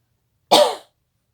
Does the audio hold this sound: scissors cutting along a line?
no